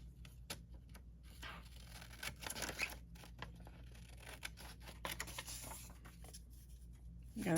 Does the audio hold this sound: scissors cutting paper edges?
yes